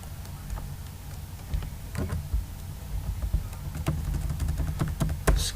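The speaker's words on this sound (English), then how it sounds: "excuse my typing here" Typing on a computer keyboard in an office while filling in documents, with scattered soft key clicks and taps at an irregular pace, fairly faint over a low background hum.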